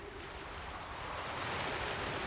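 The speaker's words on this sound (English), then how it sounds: "listen for the sound of flowing water" Steady broadband rush of flowing water in the space exploration game Outer Wilds, continuous and fairly close, with no voices over it.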